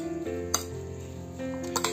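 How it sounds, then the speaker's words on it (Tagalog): A spoon stirs radish salad with lemon and salt in a bowl, giving a few light clinks and scrapes against the dish over a steady low hum. "Tapos haluin natin ulit."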